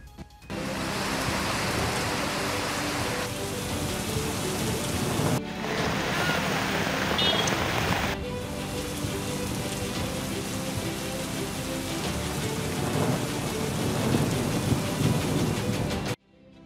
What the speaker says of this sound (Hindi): बारिश मूसलाधार,